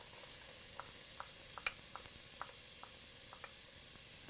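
Celery and garlic sizzle in a soup pot over a steady soft hiss, with a few quiet spoon taps and stirring clicks scattered through, faint and without any voices.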